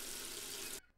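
Warm tap water runs steadily into a sink as hands are wetted, a full, even hiss that cuts off abruptly just before the end.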